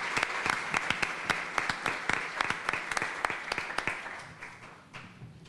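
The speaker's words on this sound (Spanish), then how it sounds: "pido un fuerte aplauso." An audience applauds after a speaker is introduced at a panel event. Sharp, dense clapping fills the room, sometimes landing in a loose rhythm, then thins and fades toward the end.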